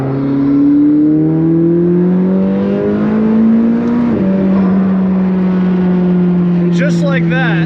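A McLaren 600LT coupe accelerates hard in a third-gear pull, its engine note climbing loudly and steadily, dropping sharply at an upshift midway before rising again, heard close from inside the car.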